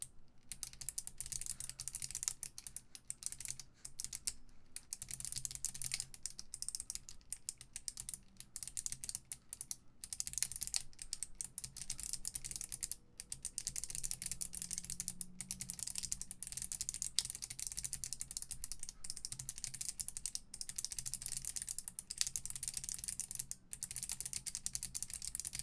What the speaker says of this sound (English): I can definitely hit 100 words per minute without keycaps